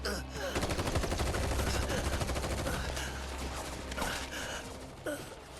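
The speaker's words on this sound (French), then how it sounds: "Des gardes sont ici. Ils tirent sur tout le monde." Guards opening fire in the Final Fantasy VII Rebirth video game: dense, continuous automatic gunfire rattles loudly for several seconds with overlapping shots and bursts, a low rumble beneath and a few sharp louder cracks near the end.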